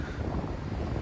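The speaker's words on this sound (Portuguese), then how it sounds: "No verão, Balneário Camboriú tem mais vento do que no inverno" Wind on the beach at Balneário Camboriú, a constant low rumbling buffet against the microphone, loud and steady without a break.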